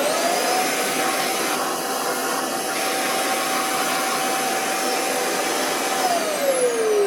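A vacuum cleaner sucks up resin dust from a 1/32 scale Eurofighter Typhoon model kit, a steady close-up whine and rush of air that holds constant throughout, with a slight pitch shift near the end and no talking.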